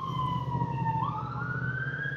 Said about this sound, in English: just as the flashing lights and a siren goes past.